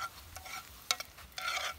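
Onion frying in a pan gives a soft, quiet sizzle with a few sharp ticks and stirring scrapes over a short span, without speech.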